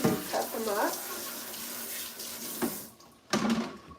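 Tap water runs into a sink over freshly cut apples being rinsed, a close, steady splashing stream with brief clatters and a short break before the flow surges again; a voice is faintly present.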